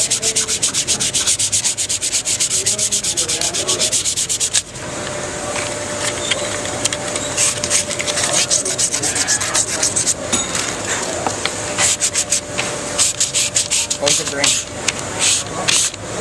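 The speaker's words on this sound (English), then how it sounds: "we're going to hand sand it" Sandpaper is worked by hand along the grain of a wooden piece in steady, rhythmic back-and-forth strokes, loud and close, with a voice talking now and then under the rasping.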